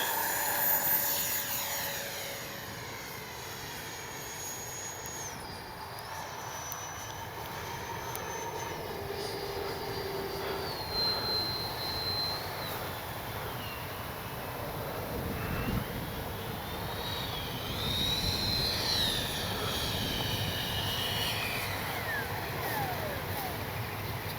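Freewing L-15 4S electric RC model jet taking off, a steady whining ducted-fan roar with a shifting pitch that holds throughout against outdoor background noise, no voices.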